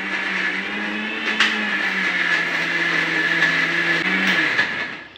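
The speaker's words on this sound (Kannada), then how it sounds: "ಈಗ ಮಿಕ್ಸಿಗೆ ಹಾಕಿ ಪೇಸ್ಟ್ ಮಾಡ್ಕೊಳ್ಬೇಕು." A mixer grinder whirs steadily up close as it grinds fried vegetables into paste, a sustained motor hum with a high whine and small pitch wobbles, cutting off and winding down at the end.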